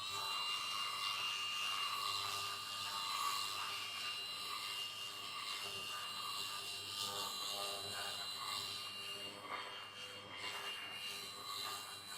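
A Milwaukee M12 FUEL 3-inch orbital sander with 80-grit paper on speed 2 smooths a torn-out wooden edge, giving a steady quiet whirring buzz with a rasping scratch throughout, no talking.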